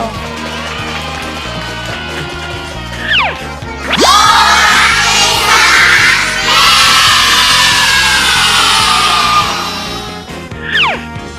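Children at a kindergarten school event erupt into loud crowd cheering and shouting, with broadband noise swelling mid-clip and holding for several seconds before fading, sharp voices rising above it at the start and end.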